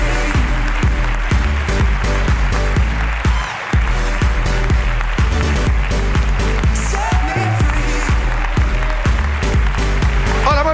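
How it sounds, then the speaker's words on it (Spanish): Studio audience at a live comedy show applauding warmly, dense steady clapping that fills the whole stretch, with a brief lull partway through. "Ahí está, aplauso para ella."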